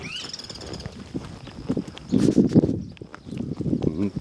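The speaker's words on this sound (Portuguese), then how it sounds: "Olha o cavalo." A horse walks, its hooves clip-clopping irregularly and fairly close, with a few louder thuds partway through. Some faint talking sits underneath.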